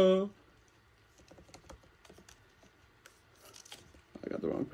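Scattered quick key taps on a computer keyboard as a password is entered, light and close, ending with a burst of louder rustling and clatter.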